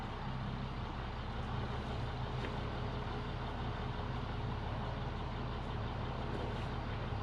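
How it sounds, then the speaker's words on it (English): School bus diesel engine rumbling at a steady idle close by, a continuous low, dense drone with no breaks and no talk over it. "the first bus will definitely start here at now 2:56 p.m. January 3rd, 2022"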